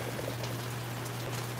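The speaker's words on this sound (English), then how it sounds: "I'm sure you can hear the rain." Rain falling steadily in an outdoor orchid garden, a soft continuous hiss of drops with a low constant hum underneath.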